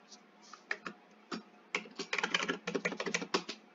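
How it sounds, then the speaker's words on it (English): Computer keyboard keys pressed during domain lab setup, starting as a few sparse, separate clicks and turning into a quick, dense run of close typing taps, with no talking. "It's like it's not taking my enter key press,"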